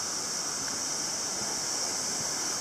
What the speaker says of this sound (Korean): 오늘은 그 확실히 비가 오니까는 그 물소리가 확실히 다르네요